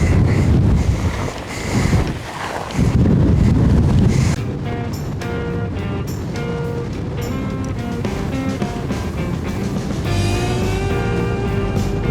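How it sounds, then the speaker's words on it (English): Strong wind sweeps across open high plains, roaring and buffeting the microphone in heavy gusts for the first few seconds, then settling into a steadier, softer rush. "It's super duper windy"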